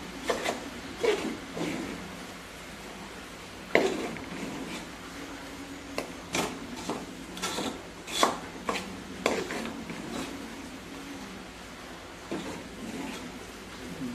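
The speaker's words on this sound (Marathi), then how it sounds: "म्हणजे असं ढवळतच राहावं" A spoon stirring a thickening mixture in a cooking pot, giving irregular scraping and knocking strokes, some sharp, repeated through a fairly quiet room with no talking.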